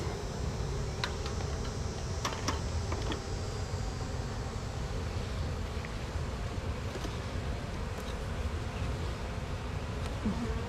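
Bees buzz in a dense, constant drone, close and steady throughout, with a few faint clicks over the hum.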